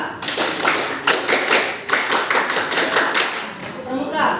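Students in a classroom perform a rhythmic scout-style group clap, with sharp, evenly spaced bursts of clapping repeated in a pattern, close and loud, with some voices mixed in.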